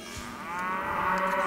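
A cow lets out one long, loud moo close by, drawn out and steady over about a second and a half, with no talk over it.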